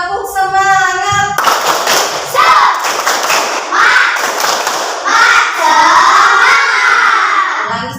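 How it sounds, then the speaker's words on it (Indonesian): Classroom children doing the tepuk semangat spirit clap, loud rhythmic group clapping and stomping in repeated bursts mixed with children chanting and shouting, after a teacher's voice at the start. "Kita tepuk semangat, bisa ya?"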